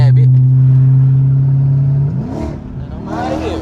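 Dodge Charger Scat Pack driving on a bumpy daytime road, a steady loud engine drone holding for two seconds before dropping away into shifting revs and clatter as the car pulls off hard.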